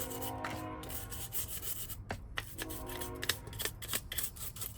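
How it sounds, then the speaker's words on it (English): Old, hardened nitro fuel residue is scraped off the parts of a Traxxas Nitro Rustler RC car. Close, gritty back-and-forth scraping strokes repeat in an uneven rhythm with no voices. "And then we're gonna have to do some scraping."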